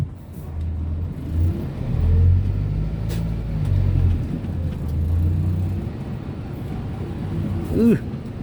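A Yanmar YM 531 A tractor pushes a pile of dirt toward a six-wheel dump truck. Its engine drones steadily and loudly, with low rumbling surges, and a brief rising whine near the end.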